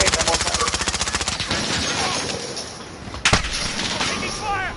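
Rapid automatic gunfire from Call of Duty team deathmatch gameplay, a fast burst of evenly spaced shots followed by a single loud crack, with a player's voice talking over the action.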